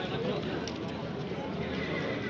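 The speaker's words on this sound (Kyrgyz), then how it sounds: "Мына азыркы 3 асы чоң ат." A very big, tall horse neighs at a livestock bazaar in Gulcha, its whinny blending into a busy, constant crowd noise as people talk throughout.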